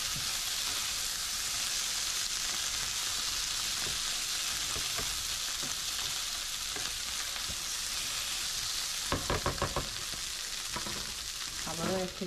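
Bitter gourd bhaji with green chillies frying in a pan, a constant close sizzle with bursts of stirring scrapes toward the end, no voices.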